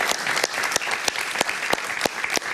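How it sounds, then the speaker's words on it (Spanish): An audience applauding steadily, many hands clapping at once with sharp individual claps standing out, fairly loud and continuous. "Un aplauso para ella, por favor."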